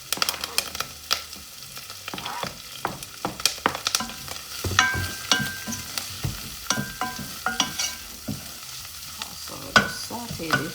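Scallion, thyme and pepper sauté in a pan with a steady sizzle, broken by frequent scraping and clinking as a utensil stirs them, with no one talking.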